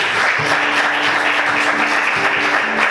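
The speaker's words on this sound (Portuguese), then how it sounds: "Vamos aplaudir o Senhor." A church congregation claps for the Lord during a worship service, loud dense applause held steady throughout, with faint sustained tones beneath.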